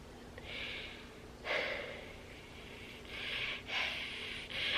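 Breathing of a person with cystic fibrosis taking Trikafta, heard close up in a quiet room as several slow, airy, noisy breaths in and out, each lasting a second or so.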